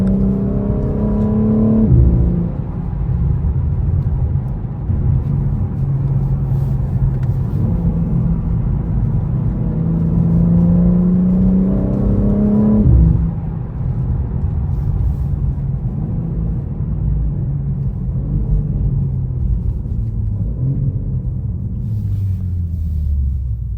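A powerful BMW M4 engine roars from inside the cabin, revving up through the gears in rising sweeps, with a drop as each shift hits and a constant low rumble.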